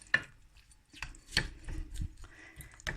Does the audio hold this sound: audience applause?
no